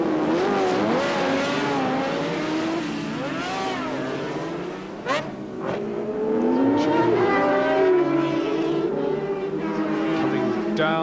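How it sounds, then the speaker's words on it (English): Racing motorcycles, including a Norton, at a 1988 British Superbike race scream past one after another, their loud engines rising and falling in pitch as they pass close, with a brief sharp burst in the middle. "Number 12 coming through there, Simon Buckmaster on the Norton holding a good place."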